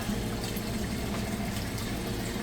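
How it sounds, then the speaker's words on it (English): An Amana washing machine drains out its wash water after the wash cycle, a steady, continuous rush of flowing water with a low pump rumble underneath, close and constant throughout. "It's draining that water out. You can hear it there."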